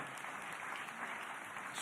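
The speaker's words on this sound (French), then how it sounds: "Je crois que les applaudissements en témoignent." At the close of a conference talk, the audience gives a dense, even wash of applause that holds steady from start to finish and comes across as moderately distant, with no voices heard.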